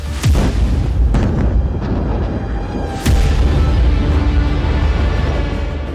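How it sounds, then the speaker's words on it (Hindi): Deep, powerful explosions in Beirut boom out one after another, with sharp blasts near the start and around the middle, followed by a long rumbling roar. "लेबनान की राजधानी बेरूत में कई शक्तिशाली विस्फोट हुए।"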